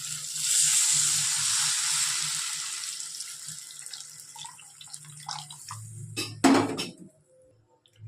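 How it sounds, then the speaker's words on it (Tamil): Tamarind water poured into a pan of frying garlic for garlic curry, a steady watery splash and trickle that tapers off, followed by a brief metallic clink of a utensil against the pan near the end. "இப்போ கரைச்சி வச்ச புளியை சேர்த்துக்கோங்க"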